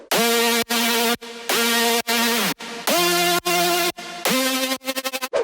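Melodic drum and bass synth lead run through distortion, EQ, chorus and reverb, sounding as a loud, bright, buzzy phrase of sustained notes with short gaps, ending in quick stuttered repeats, with nothing else heard.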